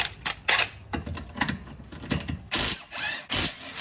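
A ratchet clicks in quick bursts while undoing suspension bush bolts on a Nissan Skyline R34, close and crisp with short pauses between strokes.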